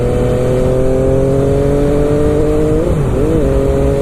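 An MV Agusta F3 motorcycle with a changed exhaust rides along an open road, its engine droning loud and steady with a strong tonal hum that dips and recovers briefly near the end.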